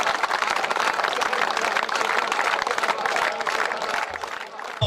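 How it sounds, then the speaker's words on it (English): Hundreds of people in matching track uniforms clap together in unison for the president of Turkmenistan, a dense, steady wall of applause that carries evenly through the whole stretch. "hundreds of people in matching track uniforms who were forced to either stand and clap for him in unison"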